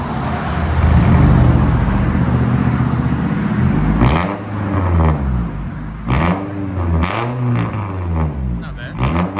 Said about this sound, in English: So we'll let you guys hear it in a second.